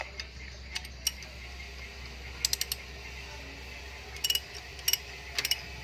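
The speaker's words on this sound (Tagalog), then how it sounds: "Higpitan po natin yung dalawang bolt." Tightening two bolts on a pump belt bracket of a Crosswind with a squealing pump belt: scattered faint metallic ticks and ratchet clicks in small clusters over a low steady hum, no talk.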